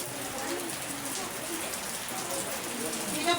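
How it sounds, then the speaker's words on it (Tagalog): Rain falls in a steady, even patter that fills the space, with faint voices in the background. "Ayan, ulan. Blessing po yan."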